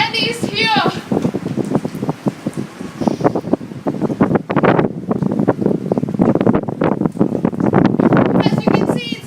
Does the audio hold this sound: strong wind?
yes